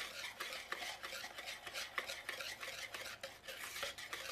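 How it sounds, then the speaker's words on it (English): Cake batter with vanilla extract being stirred by hand in a bowl, producing quiet rhythmic scraping and sloshing strokes in quick succession, close and with no voices. "Mix that all together along with your vanilla extract"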